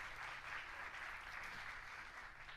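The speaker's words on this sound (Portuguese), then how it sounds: "Uma salva de palmas para Benjamin" A church congregation claps steadily for a two-month-old baby boy named Benjamin, the applause even and continuous but quiet and distant.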